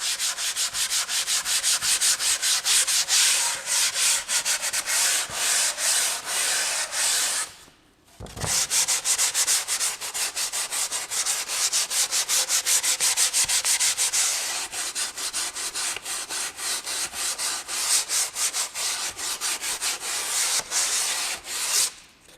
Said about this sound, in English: We're going to take it away with the 80 sandpaper.